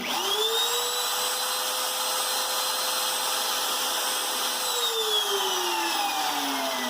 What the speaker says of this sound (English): And sand with a drum sander.